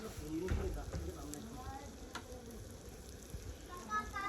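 Onion paste and spices sizzling and frying in a pan for a village-style chicken curry with potatoes, a steady close crackle with soft scraping stirs throughout.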